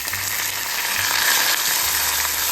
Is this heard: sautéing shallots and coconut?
yes